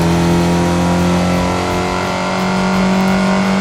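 A Honda City GM6 fitted with a turbocharged K24 engine in Assetto Corsa drones loudly at high revs on an expressway, a steady, sustained engine tone that dips slightly midway and then climbs again.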